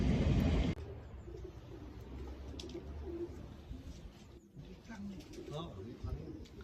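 Pigeons coo softly nearby in a new young-bird loft, with wing flutters and rustling, while people talk over them.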